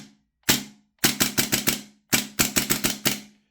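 A Tokyo Marui SCW-9 gas blowback airsoft SMG fires on semi-auto, one sharp crack followed by two quick bursts of rapid snapping shots with brief pauses between, close and alone.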